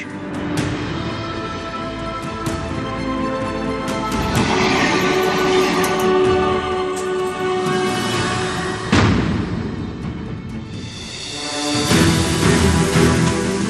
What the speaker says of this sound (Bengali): সারাদিনই একের পর এক ট্রেন চলে।